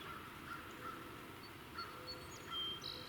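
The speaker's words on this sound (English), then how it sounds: "Even the crows are sounding off now" Crows cawing from a high point above the woods in spring, faint repeated calls at a distance over a low steady background rumble of passing traffic.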